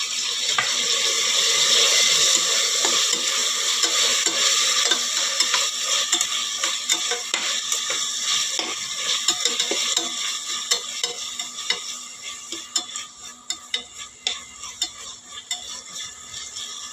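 A large tomato sizzles and fries in a pan with ginger paste for vegetable biryani, with steady hissing under repeated scraping stirs that grow sharper and more distinct toward the end.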